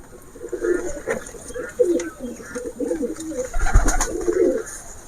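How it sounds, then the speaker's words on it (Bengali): Young pigeons coo in a run of soft, low, throaty calls close by, repeating through the whole stretch with faint background hiss. "এদিকে সব কবুতরের বাচ্চাগুলো আছে"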